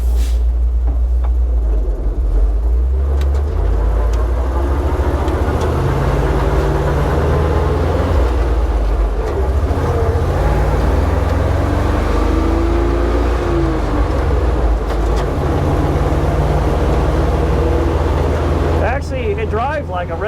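A large 32-foot Dodge truck with air brakes driving along, its engine drone and road roar loud and constant inside the cab because the rear windows are out, with a voice talking over it.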